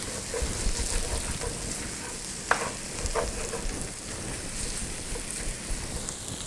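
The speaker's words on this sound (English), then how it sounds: "hold that pot while I stir that" A pot of sausage in red gravy being stirred, with a steady low bubbling simmer and a couple of sharp spoon scrapes against the pot.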